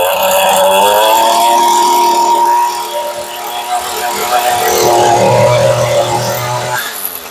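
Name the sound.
Echo SRM 225 string trimmer engine running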